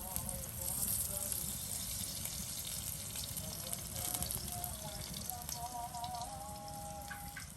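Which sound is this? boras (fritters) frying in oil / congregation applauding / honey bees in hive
boras (fritters) frying in oil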